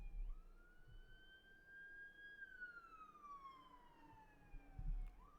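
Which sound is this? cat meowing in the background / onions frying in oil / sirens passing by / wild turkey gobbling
sirens passing by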